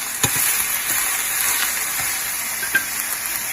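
Mushrooms sizzling in a frying pan alongside Shanghai bok choy and salt, a steady close hiss of frying with a few light clicks of a utensil against the pan.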